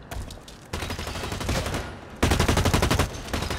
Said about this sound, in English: Ah, they're shooting at me.